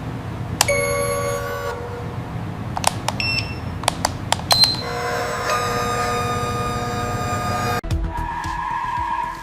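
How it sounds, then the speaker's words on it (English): Electric fat-tire bike with 20 by 4-inch tires and dual mechanical disc brakes skids to a sudden halt, a long tonal brake squeal and tire screech amid sharp clicks, a broadband scrape, and a final whine. "When coming to a sudden halt, the high-performance dual mechanical disc brakes provide responsive and reliable stopping power."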